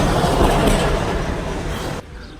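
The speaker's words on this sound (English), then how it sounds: "the trams are really hard to miss because they're really," A tram rumbles loudly along a main street in Vladikavkaz, Russia, a close, heavy rolling roar with rattling that holds steady, then cuts off abruptly near the end, leaving quieter street ambience.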